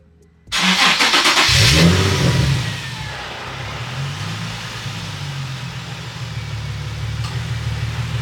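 A Nissan Z car engine starts with a loud burst, revs hard for about two seconds, then drops to a steady idle that hums on nearby with no talk.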